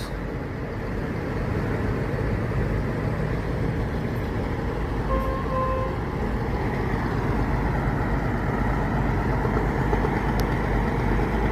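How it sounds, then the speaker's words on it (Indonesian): A bus air-conditioning cooler engine on a Jetbus 2 coach in Aceh hums steadily and loudly, a constant low drone running throughout with no talk. "Ngaungan mesin cooler."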